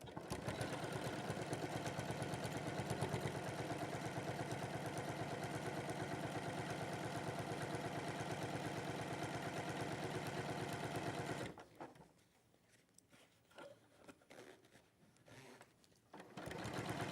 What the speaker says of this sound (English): you're just going to sew that into place